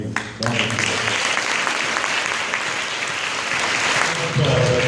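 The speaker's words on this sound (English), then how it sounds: "Let's give another big round of applause." Audience applause at a school book launch at Merrifield Preparatory School, a dense steady clapping from a seated crowd of students that carries on for several seconds, with voices showing faintly near the start and end.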